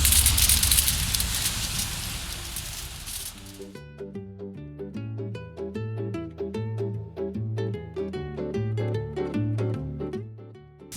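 Rain falling outside a car in Rzeszów, a steady broadband hiss for the first few seconds before music takes over and buries it.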